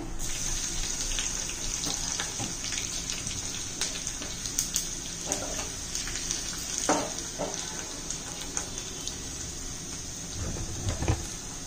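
Crushed garlic sizzles in hot oil over popped mustard and cumin seeds for spinach bhaji, a steady crackling fry with occasional sharper pops and clinks of a utensil, no one speaking.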